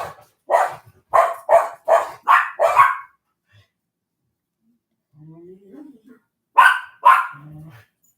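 Several excited dogs bark in a rapid series of loud, close bursts, then fall quiet while a voice speaks softly and the barking briefly returns.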